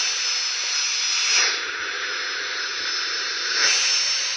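Steady roar of a video game airplane engine, loud and continuous, swelling slightly twice as if throttling up, with no voices.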